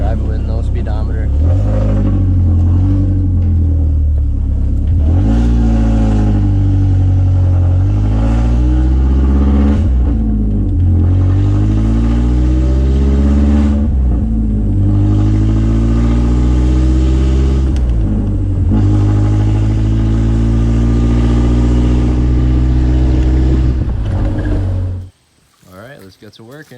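A BMW Z3 roadster with a faulty speedometer pulse generator sensor drives along, its engine droning loud and close and rising and falling through repeated revs and gear changes, then cutting off near the end.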